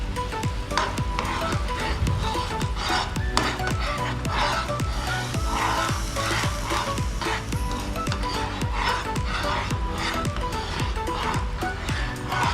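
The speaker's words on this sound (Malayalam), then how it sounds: "ഒരു സ്പൂൺ ഇട്ടതിന് ശേഷം നല്ലോണം ഇളക്കുക" Thai chili paste (prik pao) being stirred in a pot, giving a constant sizzling hiss and a busy scrape and clatter of spoon strokes that runs steadily and loud throughout.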